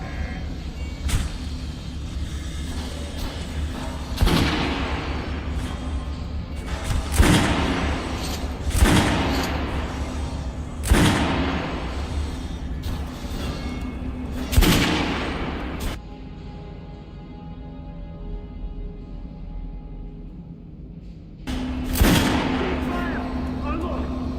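Artillery pieces fire in Metro Last Light, a series of heavy booming blasts spaced a few seconds apart, each with a long rumbling tail, with background gunfire and a brief pause of quieter rumble before a final shot.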